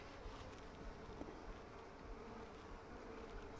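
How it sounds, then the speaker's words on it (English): Bees buzzing around a Flow Hive comb with foundationless frames, a dense continuous hum, close and steady throughout with no voices. "I'm just going to clear some bees away."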